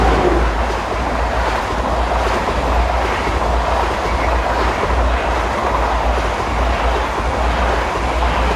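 A DB Class 111 electric locomotive pushes from the rear of a regional train bound for Hannover, a loud steady roar of wheels and rushing air as it passes close by, with no talking.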